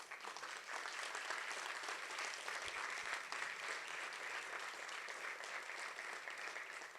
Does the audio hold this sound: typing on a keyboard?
no